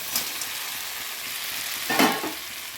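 Crabs sautéed in a pan give a close, steady sizzle with a stirring scrape near the start and a louder burst of hissing and clatter toward the end; nobody talks.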